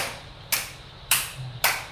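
Three sharp, evenly spaced group claps from a circle of people playing an ice-breaker clapping game, each a crisp burst fading quickly into quiet.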